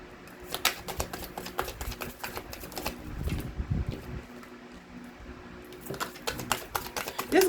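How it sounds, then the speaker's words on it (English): Tarot cards shuffled in repeated quick bursts of papery riffling and soft slaps, with a brief lower thump midway, close and fairly quiet in a room. "Let me try one more shuffle here"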